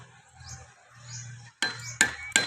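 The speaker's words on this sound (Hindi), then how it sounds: "और ऊपर ढक्कन लगा देंगे" A metal lid is set onto a cooking pot of rice, three sharp clinks and clatters following a stretch of low simmering bubbling.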